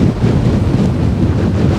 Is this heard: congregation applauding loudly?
no